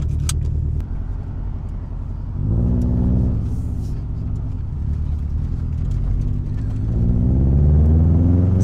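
A 2006 Subaru WRX STI engine with external wastegate and catless exhaust idles with a deep, throaty rumble, rising in a couple of revs to a louder, rougher growl.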